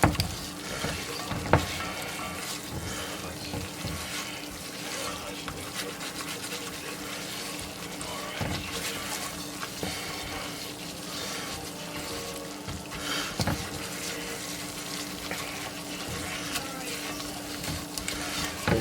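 A whisk stirs cheesy broccoli soup in a pot on low heat, making a steady scraping swish with a soft simmering sizzle underneath, continuous and close.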